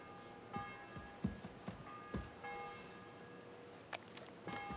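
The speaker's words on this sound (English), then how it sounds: "The bell's ringing for Hans the 5th time." A church bell rings in the medieval game Kingdom Come: Deliverance II, its faint, lingering tolls repeating at intervals with long ringing decay behind soft clanks and ambient noise.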